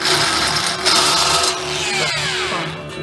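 A power drill whines steadily and loudly, chamfering a hole in sheet metal on a 1962 split-window bus, grinding with a continuous rough buzz that shifts slightly in pitch.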